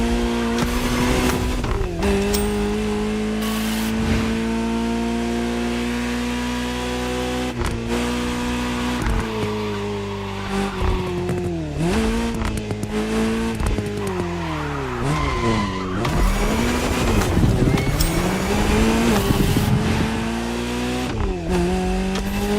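Ferrari 308 GTS tires squealing and skidding in the racing game The Crew Motorfest, sustained rubber screech riding over a steady engine drone, loud and close, with pitch sweeps as the car slides.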